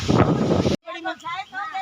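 Strong wind by a river buffets the microphone in a loud roaring burst for under a second, then cuts off as a person starts talking.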